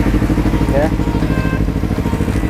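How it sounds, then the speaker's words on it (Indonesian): A Kawasaki Z250 two-cylinder motorcycle with a Yoshimura exhaust idles steadily close by, a low, even throb that runs unbroken while someone says a brief word over it. "jadi kita akan coba aja langsung untuk motor 2 silinder Z250 ini"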